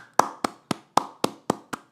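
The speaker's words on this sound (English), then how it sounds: "Round of applause." A handful of sharp hand claps in an even, quick rhythm, about seven in two seconds, close and clear with no voices, as a round of applause on a podcast.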